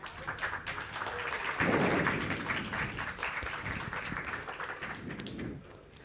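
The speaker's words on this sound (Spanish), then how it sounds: "Démosles un aplauso y bienvenidos a todos." An audience at a community writing workshop applauds to welcome the speakers, a soft, fairly distant wash of clapping that swells and then fades out.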